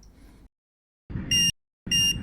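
A Quad Lock bike alarm gives two bright electronic chirps on connecting, close and loud, each a short tonal beep, following a brief muffled rustle.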